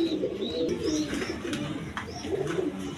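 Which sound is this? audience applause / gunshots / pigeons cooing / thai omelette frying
pigeons cooing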